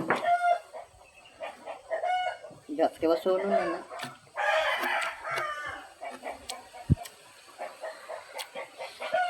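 Chickens cluck and a rooster crows nearby, mixed with steady conversation and a dog's occasional noise, in a rural yard setting where hens are laying eggs.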